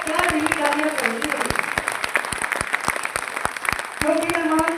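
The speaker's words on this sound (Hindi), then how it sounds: "एक बार जोरदार तालियां गुरतेज सर के लिए" Audience at a marketing seminar claps for a guest speaker, a brisk burst of many hands with sharp individual claps standing out, while a voice keeps speaking loudly over the applause.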